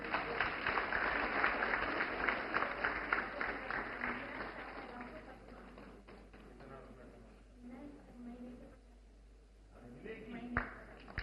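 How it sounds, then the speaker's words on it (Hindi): Loud crowd applause welcomes Kishori Didi, a Lakhpati Didi, at a Sashakt Nari programme at IARI Pusa, with dense clapping that gradually thins and fades over about eleven seconds, while a voice speaks over it. "जोरदार तालियों से स्वागत करें हमारी लखपति दीदी, किशोरी दीदी का"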